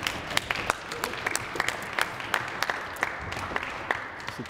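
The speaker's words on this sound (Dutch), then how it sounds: "Je mag nog klappen hoor" Sparse audience clapping after a classical young-talent performance in a Dutch concert hall, with scattered individual claps and a few sharper near hands over a soft background murmur.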